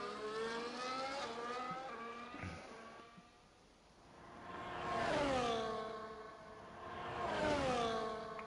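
Formula 1 cars lapping Monza in F1 24, engines whining up and down through the gears as two cars pass by in turn, the scream swelling, fading, then rising again.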